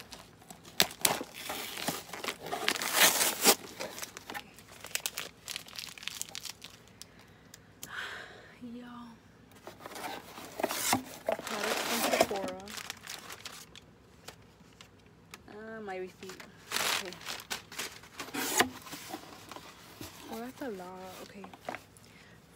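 Plastic packaging crinkles and rustles in bursts as it is handled and torn open, close by, with a person talking in between.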